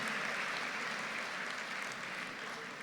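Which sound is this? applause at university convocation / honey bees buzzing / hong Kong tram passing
applause at university convocation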